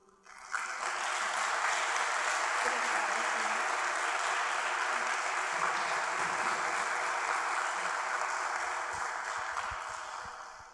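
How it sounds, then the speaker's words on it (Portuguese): Sustained applause from a church congregation during a Brazilian worship service, a dense steady wash of clapping that rises quickly and holds loud for about ten seconds before tapering slightly. "as palmas não são para nós, as palmas são para Ele."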